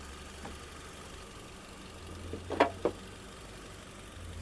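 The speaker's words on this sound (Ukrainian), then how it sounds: "Давайте послухаємо, як працює двигунчик." A 2002 Nissan X-Trail 2.0 petrol engine idles quietly with a low, steady rumble, and a couple of small clicks or knocks stand out briefly near the middle.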